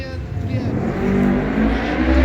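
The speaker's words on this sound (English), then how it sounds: "I hear you back there, noisy motorbike." A noisy motorbike passes in steady, loud engine drone that swells slightly as it goes by, heard close and continuous under a faint background of speech.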